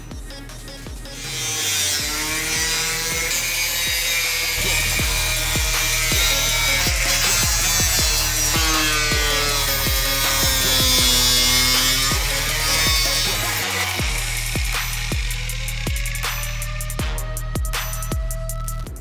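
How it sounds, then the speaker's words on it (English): A cutoff wheel slices through a Jeep JKU hood for a snorkel install, a loud, steady, high grinding whine that runs unbroken for nearly twenty seconds with a slightly wavering pitch. "use your cutoff wheel to cut the rest out."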